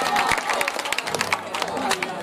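An audience claps along at a devotional jagran, steady rhythmic handclaps mixed with crowd noise and a voice talking over them throughout.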